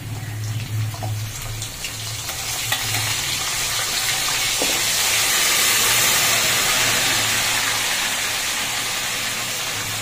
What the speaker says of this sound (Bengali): এবারে মশলাটা এতে দিয়ে দেবো।